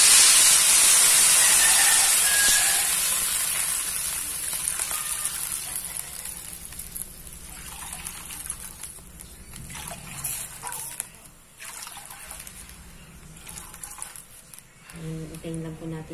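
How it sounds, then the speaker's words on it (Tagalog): Water poured into a hot pan while cooking pancit guisado gives a loud, near hiss of steam that bursts in at the start and fades over a few seconds, then settles into quieter bubbling and kitchen clatter. "nilalagay ng tubig para mapuntaan"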